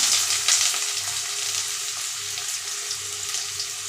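Large onions dropped into hot oil for gongura rice, frying with a bright, steady crackling sizzle, loudest at the start and then settling into a continuous hiss, with no voices.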